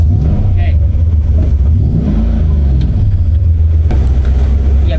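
A drift car fitted with a copper clutch, its engine droning and revving steadily at close range, loud and continuous, with people talking over it.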